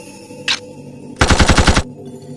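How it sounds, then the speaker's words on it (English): Repeater arm cannon firing in Blood Will Tell: one brief sharp sound, then a rapid burst of about eight loud, close shots in quick succession, then quiet. "I call it the repeater arm cannon."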